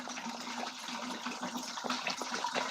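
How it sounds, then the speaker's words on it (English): Dechlorinated tap water that has sat out for a day is poured into an indoor hydroponic system, making a steady, close gushing splash that runs throughout without speech. "So the first thing I'm gonna do is put my water in."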